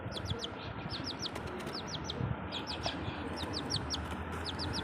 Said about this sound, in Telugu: ఈరోజు అయితే మనం మా కోడి పిల్లలు చూపిస్తున్నా చూడండి